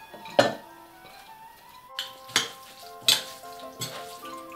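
Quinoa tabbouleh with diced cucumber and spring onions being mixed in a bowl, four distinct utensil clinks against the dish spaced about a second apart, with a faint ringing tone after each strike.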